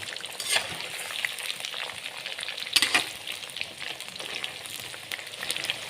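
Chicken fries and roasts in a pan for a chicken fry roast over a low flame, giving a steady close sizzle with occasional louder crackles and stirring scrapes, with no talking.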